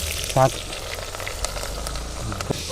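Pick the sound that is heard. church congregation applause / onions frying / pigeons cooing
onions frying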